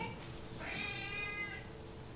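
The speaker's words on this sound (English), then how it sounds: "That must be the cat." A cat lets out one drawn-out, faint meow over a low background hum, rising and then fading away, with no voices nearby.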